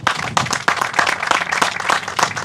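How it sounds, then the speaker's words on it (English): A small crowd at an outdoor groundbreaking ceremony claps close by, with loose uneven hand claps in a brisk, lively round. "can we give them a round of applause?"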